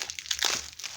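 Crinkling and crackling of bubble wrap being pulled off a thrifted item while unboxing, a close, continuous rustle with brighter crunchy bursts in the middle.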